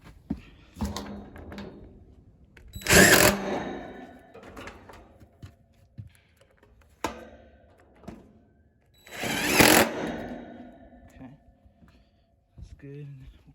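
A power drill drives screws into the panel of a Rheem unit, with two loud bursts of whirring several seconds apart, separated by clicks, handling noises and someone talking.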